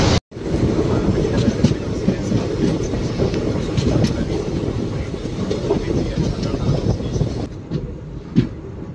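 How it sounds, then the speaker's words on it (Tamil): The Palakkad–Chennai Central Superfast Express rumbles along the track with a loud, continuous roar and rhythmic clatter of wheels, heard from inside the moving train, with a faint voice briefly in the mix. "நம்மளோட Palakkad Chennai central superfast express தாங்க"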